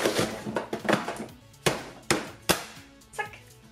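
A Nicer Dicer Chef pushes a large onion through its 6x6 mm cutting grid, giving a handful of sharp close thunks and clacks spaced irregularly, with no talk.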